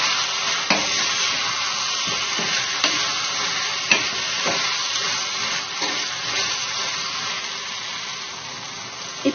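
A spoon stirs tomato and drumstick curry with turmeric and coarse salt in a pan, giving a steady close sizzle with repeated scraping clicks and knocks, no talk.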